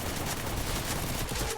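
Dense, continuous gunfire from the video game Free Fire, a loud rapid fusillade of overlapping shots filling the whole short burst with no pause.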